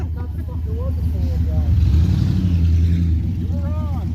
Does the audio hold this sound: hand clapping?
no